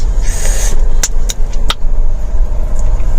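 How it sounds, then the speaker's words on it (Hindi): A car edging through narrow lanes on a road trip in South India gives a steady, close rumble of engine and road noise, broken by a few sharp clicks and taps. "और छोटी छोटी गलियों में से गाड़ी निकाल रहे हैं।"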